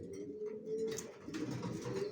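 Racing pigeons of the Johnson line coo softly in a loft, a low steady murmuring call with a brighter flutter partway through, moderately close and fairly quiet.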